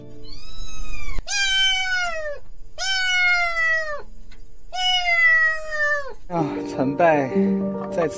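A kitten meows loudly and close by, four long drawn-out meows in a row, followed by a brief jumble of other sounds.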